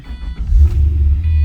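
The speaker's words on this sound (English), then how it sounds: "Fire the car up." A 2004 Pontiac GTO engine turns over and catches close by, a short cranking burst swelling into a loud, deep idle rumble that holds steady.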